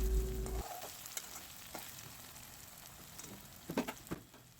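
Chicken for chicken kosha is stirred while it fries in oil in a pan: a low, continuous sizzle with a loud opening knock and a few sharp scraping taps near the end.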